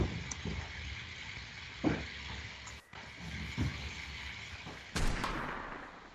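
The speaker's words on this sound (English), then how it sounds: "They're firing at me." Gunfire rings out in a World War Two battle in the game Unturned, a few sharp, booming shots spaced a second or two apart over a steady, hissing background.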